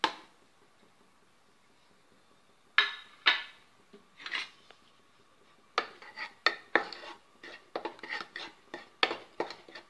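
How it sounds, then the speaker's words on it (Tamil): Rice flour dry-roasting in a pan, stirred with a metal spoon: a quiet start, then repeated scraping and clinking strokes against the pan that grow busier and denser toward the end, with no talking. "இப்போ இதில் அரிசி மாவு வறுத்துடலாங்க."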